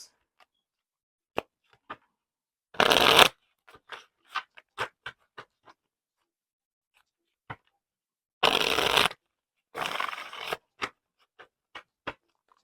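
Tarot cards being shuffled in short, crisp riffling bursts, with three louder shuffles separated by scattered light taps and clicks of cards being handled close by in an otherwise quiet room.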